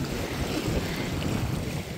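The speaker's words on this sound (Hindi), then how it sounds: "पत्थरों के दरमियान पानी कैसे आ रहा है" Seawater sloshes and rushes between rocks on a beach, a steady broadband wash with gusts of wind buffeting the microphone, moderately quiet and without voices.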